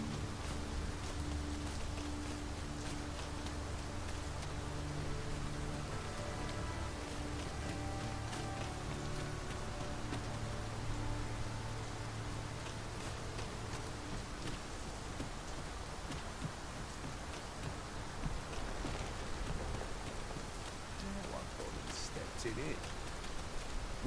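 A steady wash of heavy rain pattering on surfaces in the video game Dragon's Dogma 2, with a low musical drone fading underneath and occasional louder drips.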